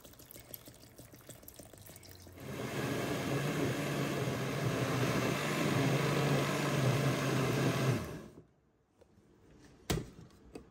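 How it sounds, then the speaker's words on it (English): Water pours steadily for about six seconds as it is added to freshly squeezed lemon juice in a kitchen, a close rushing stream that stops abruptly, followed by a faint clink. "So I'm going to add some water."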